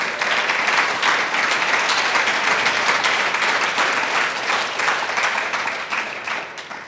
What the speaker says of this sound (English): Let's give a round of applause for that person.